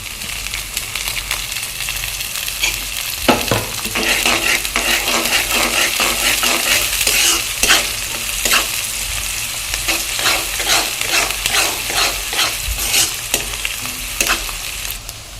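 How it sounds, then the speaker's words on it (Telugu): Ingredients for a thick chicken curry frying and being stirred in a pan, with a loud, steady close sizzle and repeated scraping and clinking strokes from the spoon throughout. "ఇవి ఎర్రగా వేగాలి"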